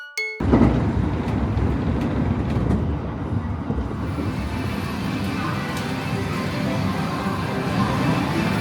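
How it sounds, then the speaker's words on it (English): A train running back to Osaka, Japan, with a steady, close rumble and rattle that holds at an even level from start to finish. "our funny-looking friend is on a train going back to Osaka"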